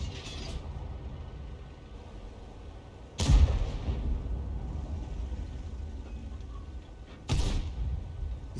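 Enemy artillery fire in a tank battle game: two distant heavy thuds a few seconds apart, each a short booming crack over a low, steady ambient rumble.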